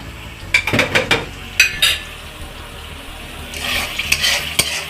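Mashed banana and beetroot halwa stirred in a pan with ghee: a string of close spoon scrapes and clinks against the pan over a soft sizzle, ending in a louder hissing stretch.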